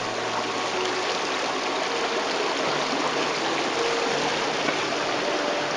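A natural outdoor stream rushes and gurgles steadily as a plastic water bottle is dipped into it, a loud, close, continuous wash of flowing water with no talk.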